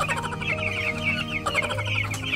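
Several hens cluck continuously nearby, their choppy calls overlapping in a busy, noisy flock sound.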